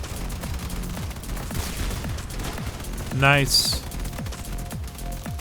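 An autocannon fires in rapid bursts in the vehicle combat game Crossout, the shots blending with engine rumble and other game sounds while a player speaks briefly.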